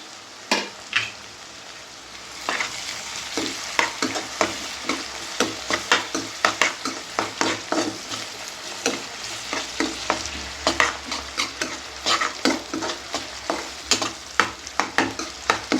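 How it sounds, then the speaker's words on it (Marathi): Onions and tomatoes fry in a pan for a large batch of pav bhaji, stirred briskly with a steady run of close scraping strokes over a continuous sizzle, no voices. "हे देखील मस्तपैकी परतून घ्यायचं."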